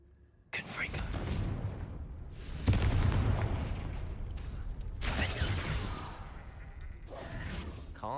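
A Confringo blasting spell from the wizarding video game Hogwarts Legacy bursts in with a sudden loud boom, followed by rumbling blasts and whooshing bursts that swell and fade over several seconds, with game voices heard around the explosions.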